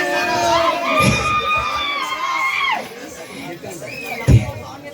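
A crowd of children and adults shouts and cheers loudly nearby at a Kola festival, with overlapping voices and a sharp burst of noise near the end.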